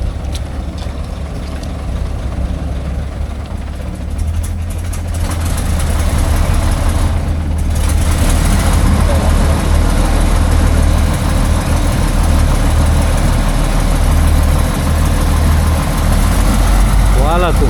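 A heavy logging truck engine labours loudly while pulling through deep mud, a deep rumble that rises and holds strongly, with people talking and calling out over it.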